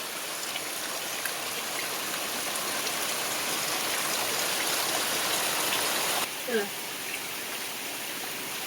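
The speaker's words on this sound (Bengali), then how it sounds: "খুব জোরে বৃষ্টি হচ্ছে, আওয়াজটা দেখো বৃষ্টির।" Heavy rain falls outdoors in a steady, dense roar of hissing drops that fills nearly the whole stretch, then drops slightly in level near the end, when a brief faint voice is heard.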